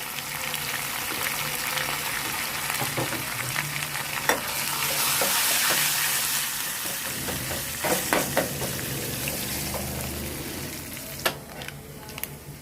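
Curry leaves, garlic, dry red chillies and a pinch of asafoetida crackle and fry in hot oil for a tempering, with steady sizzling and scattered pops and stirring clinks throughout.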